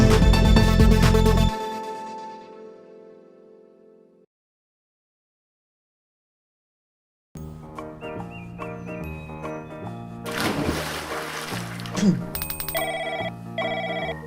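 A telephone rings in a bright electronic pattern for a couple of seconds and fades out, then after a silence a busy music-and-effects passage follows with sharp chirps and jingles.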